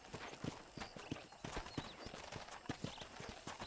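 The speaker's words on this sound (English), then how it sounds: "let's see if you can still ride a horse" Horse hooves clip-clop steadily in Red Dead Redemption, a rhythmic string of close, sharp hoof strikes at a walking pace, with a faint whinny and light ambient game sound beneath.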